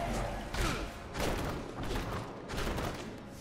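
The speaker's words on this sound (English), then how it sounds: "Fire off a few quick shots." Several quick shots from a weapon in Diablo 3 crack out in bursts, with short gaps between the broadband blasts, heard together with game sound and talk.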